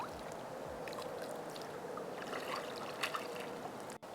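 Gentle splashing and trickling water from canoe paddle draw strokes, soft and close, with a steady wash of moving water throughout.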